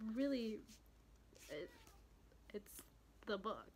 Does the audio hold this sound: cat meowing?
yes